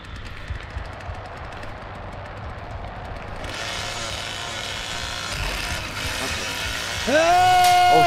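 A chainsaw in the Texas Chainsaw Massacre video game, starting from quiet rustling and building into a loud, sustained buzzing engine drone that grows louder and revs near the end.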